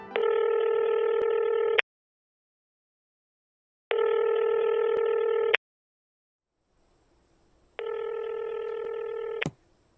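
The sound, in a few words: telephone dialing and ringing for a cold call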